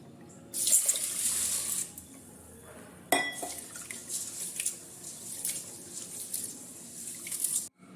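Tap water runs into a sink as millet is washed by hand, a strong steady gush starting after half a second, with sloshing and a sharp splash near three seconds, then continuing rinsing until it cuts off at the end.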